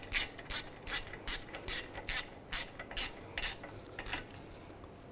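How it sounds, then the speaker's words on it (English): A ratchet tightens a bolt on the rear brake backing plate of a 2001–2008 Chevy Trailblazer, giving a steady series of about a dozen crisp clicking strokes, close and alone. "And tighten this down."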